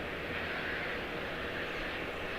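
Airliner arriving on runway 36 left at Charlotte Douglas International Airport, a steady broadband engine roar held at an even level throughout with no talk over it.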